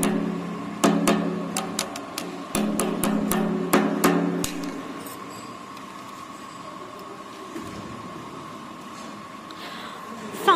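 A blade is hammered into a shoelace tipping machine, with about a dozen sharp metallic strikes in an irregular rhythm over the first few seconds, then a quieter workshop hum.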